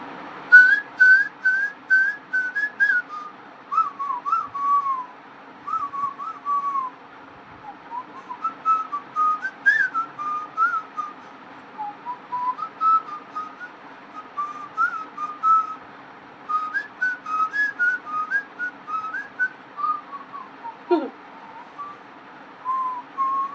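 A person whistles a song alone: clear, high melodic phrases in short bursts with brief pauses, steady and close throughout.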